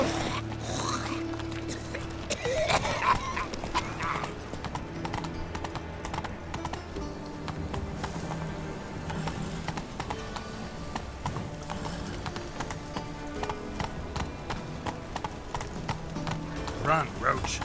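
Roach, a horse in The Witcher 3, gallops with steady rhythmic hoofbeats alongside creaking tack and a brief whinny, under game music and occasional spoken lines.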